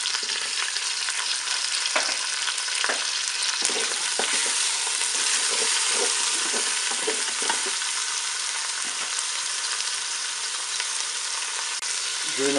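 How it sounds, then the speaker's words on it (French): Onion frying in a Cookeo multicooker, a steady close sizzle with scattered stirring clicks and scrapes throughout, no voices. "Je vais ajouter mon oignon."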